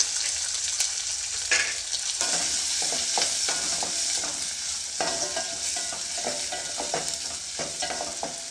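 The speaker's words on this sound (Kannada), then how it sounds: "ಈರುಳ್ಳಿನ ಒಂದು ಸ್ವಲ್ಪ ಫ್ರೈ ಮಾಡ್ಕೊಳ್ತೀನಿ, ಅಂದರೆ ಇದು ಟೇಸ್ಟ್ ಬರುತ್ತೆ." Onion fries in oil with chana dal, curry leaves and green chillies for a beetroot palya, a close, steady sizzle broken by repeated scraping stirs of a spoon in the pan, with no voices.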